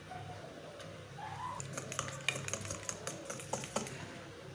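Eggs being beaten with a tablespoon of flour in a bowl, a quick series of light tapping and clicking whisk strokes, close and fairly faint, with a bird chirping briefly in the background.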